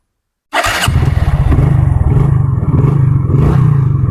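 A Hero Honda Glamour motorcycle engine fires up after a moment of silence and then idles steadily nearby with an even, rapid thumping beat, loud and alone.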